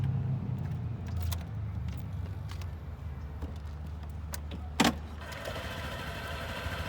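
A used 2016 Honda PCX150 automatic scooter idles quietly and steadily, a low smooth hum with a brief louder click partway through, and no talking.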